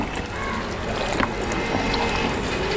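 Water splashes and trickles as goat intestines are washed in turmeric water, a short, moderately soft, continuous wet sloshing sound.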